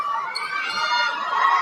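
Crowd cheering and shouting at an international basketball game in Qatar, a dense, steady roar of many voices with high-pitched shrieks, loud and continuous throughout.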